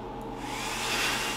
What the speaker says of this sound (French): il va sécher mes travaux avec mon sèche-cheveux GHD